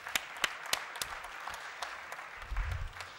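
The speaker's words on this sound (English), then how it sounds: "let's give that wonderful panel another proper round of applause" An audience at a humanitarian forum's opening ceremony applauds, a thin patter of claps with a few sharper individual hits, moderately distant and fading slightly.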